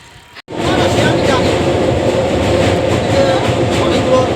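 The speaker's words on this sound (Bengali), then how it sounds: "এখন যাচ্ছি স্টেশনে, ট্রেন আসবে, ট্রেন ধরবো" Train pulling into a station, a sudden loud, steady rumble of rolling wheels and rail noise that swells in close after a brief quiet moment and carries on without a break.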